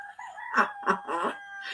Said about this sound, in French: même le coq, il chante, hein, ça le fait marrer